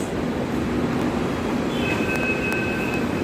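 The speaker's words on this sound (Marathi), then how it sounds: "ही मेट्रो आहे" A Pune Metro train running on its elevated track, a continuous rumble of wheels and motor with a rising high electric whine partway through, near and steady with no talk.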